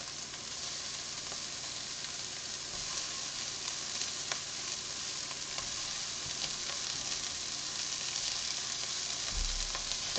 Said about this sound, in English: we're just throwing in some sausage here